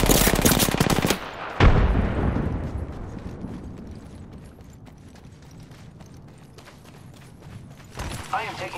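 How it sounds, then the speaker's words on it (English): Rapid automatic gunfire in the video game Apex Legends crackles loud and dense for about a second, followed by a heavy shot. Quieter game noise continues, and fresh bursts of fire start again at the end. "I am taking fire, friends."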